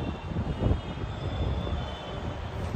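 Low rumble of an Ahmedabad Metro train at a station, with a faint high whine held throughout, at moderate volume and with no voices.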